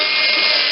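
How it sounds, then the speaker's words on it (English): Small handheld Dremel rotary tool grinding excess metal off a ring gear flywheel on a GM LS2 engine, a steady, loud high-pitched whine with no letup. "is use my little Dremel, and I'm just going to take that extra off with it too"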